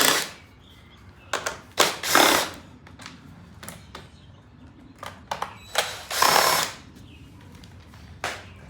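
Torx T20 screws being removed from the cover of a Honda push mower with a power driver, heard as several short whirring bursts of the tool separated by quiet pauses, close and fairly loud.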